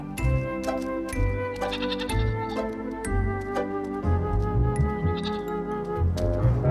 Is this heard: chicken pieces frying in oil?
no